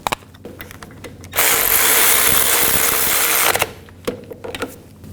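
A ratchet drives bolts into the rear wheel hub bearing module of a 2000–2006 BMW X5, giving one loud sustained mechanical whir of about two seconds, framed by scattered clicks and clanks before and after.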